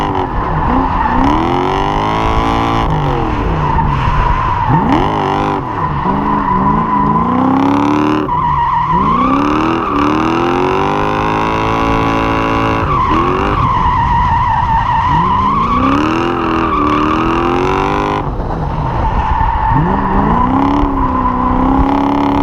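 Fully built V8 drift truck skidding with tires burning, loud close engine roar rising and falling between repeated long tire squeals and screeches as it slides.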